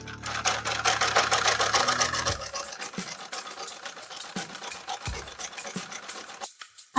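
A sewing machine runs picot beading along a saree edge, humming steadily and loudly for the first couple of seconds, then softer with scattered clicks and thumps of fabric being handled, ending with a brief sharp knock.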